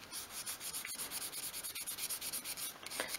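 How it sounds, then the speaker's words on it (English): Sandpaper is rubbed by hand along the thin edge of a small wooden piece for a 1/12th scale craft shed cupboard, making a steady, close, rhythmic scratchy stroking with about a dozen even back-and-forth passes. "So just hold the sandpaper at a 45 degree angle and just go along that edge."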